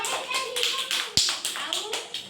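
Children clap their hands in a classroom counting lesson, a run of sharp, evenly spaced claps close by, with voices talking over them.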